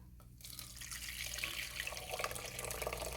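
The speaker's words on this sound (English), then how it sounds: "what you're going to do is pour this into your cheesecloth" Blended alkaline vegan milk poured into a cheesecloth, a steady close-up splashing stream of liquid that starts after a brief quiet moment and keeps running to the end.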